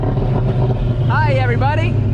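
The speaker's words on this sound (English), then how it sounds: "Gonna go for another lap in the beautiful fair lane." A Ford Fairlane rumbles through a lap at the Summernats car festival, its engine a loud, steady drone close by, with a voice briefly rising over it partway through.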